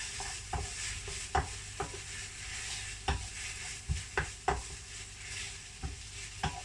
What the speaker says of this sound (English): Last bit, the basil going in. Stir them up together.